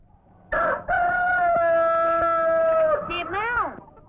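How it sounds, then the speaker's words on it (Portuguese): Rooster crowing in a 1952 Brazilian film, one long loud cock-a-doodle-doo held for over two seconds with a rising then falling ending, close and clear after a brief preceding cluck. "Quando o galo cantar"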